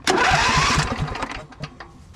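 A car engine cranks and catches, a loud rough burst of turning over settling within a second into uneven sputtering running, then a few scattered knocks and clatters fading off.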